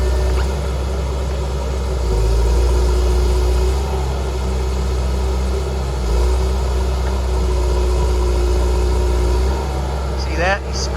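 A tracked logging machine spins its tracks on a slick wooded hill, its heavy engine rumbling loud and continuous with low grinding undertones, and a voice talks over it.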